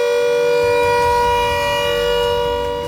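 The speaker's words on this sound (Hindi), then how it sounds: "मेरठ में भी घनी आबादी वाले इलाकों में जंगी सायरन बजाया गया" A civil defence war siren wails steadily during a mock drill in densely populated areas of Meerut, a loud sustained tone with harmonics holding throughout, carrying far over a low background rumble.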